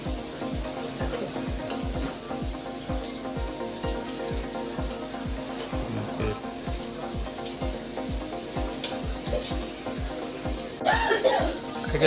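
Pieces of bangda fish, head and tail portions, fry in oil on a flat griddle with a steady, close sizzle and rapid crackling pops throughout, with a louder burst of spitting near the end.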